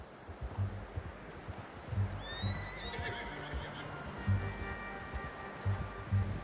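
A horse whinnies in a western video game, a clear neigh over soft rustling and muffled hoof clip-clop, with a few faint tonal game sounds following.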